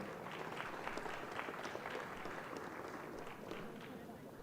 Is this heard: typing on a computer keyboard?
no